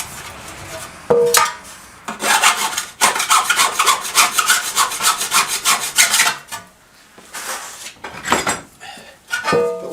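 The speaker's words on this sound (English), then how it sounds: "I like to just file them off" Hand file working burrs off the edges of thin sheet metal: close, loud rasping strokes in bursts, with a fast run of rapid back-and-forth filing in the middle and short pauses between passes, no talking.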